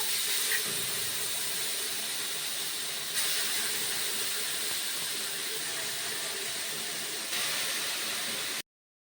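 Steady loud hiss of shish tawook chicken pieces sizzling in a preheated grill pan without added oil, a continuous close frying noise with no talk.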